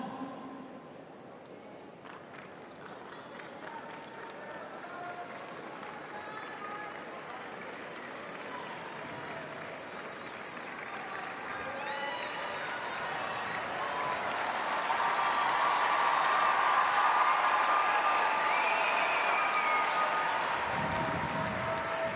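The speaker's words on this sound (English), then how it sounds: "the crowd really lifting and getting into this second semi-final" Tennis crowd at a men's singles semi-final in Brisbane keeps up a steady wash of applause and murmur, swelling louder toward the end before easing off.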